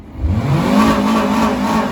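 A Skoda Octavia engine catches and settles into a steady, fairly loud mid-pitched rev that holds for a couple of seconds, with no talking over it.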